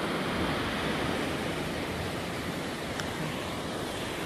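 The Citeureup river rushes past in a steady, close, broadband wash of flowing water that continues unbroken with no talking.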